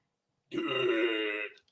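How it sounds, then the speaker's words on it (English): A single loud, drawn-out burp up close, lasting about a second, with nothing else around it. "That sounded like one of your granny burps"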